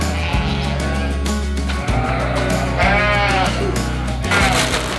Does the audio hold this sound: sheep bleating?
yes